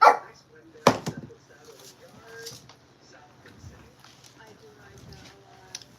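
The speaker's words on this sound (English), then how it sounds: "Sorry about the barking, y'all." A dog barks sharply once or twice near the start, and a person talks over quieter shuffling noises while potting plants.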